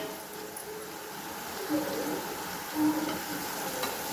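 Mushrooms fry in a pan for mushroom pulao while being stirred, a steady sizzle running throughout with a couple of louder scraping stirs near the middle and toward the end.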